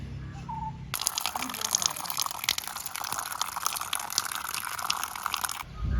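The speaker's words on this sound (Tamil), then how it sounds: "ராசவள்ளிக்கிழங்க 4-5 தண்ணியில் கழுவி எடுத்தாச்சு" Purple yam (rasavalli kizhangu) being washed in water in a home kitchen: a steady, close splashing and trickling runs for several seconds, with a voice speaking before it starts.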